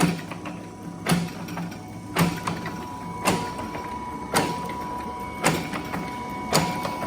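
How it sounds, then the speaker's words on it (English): An Adkins power hacksaw cutting on its backstroke makes a sharp mechanical clack about once a second in an even, repeating rhythm over a low machine hum. "it's cuts on the backstroke, and then as it comes forward it lifts up so the saw doesn't drag, and then comes back and cuts"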